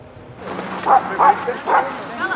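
Several dog barks ring out in a park, spaced about half a second apart and fairly close, with speech-like sounds around them.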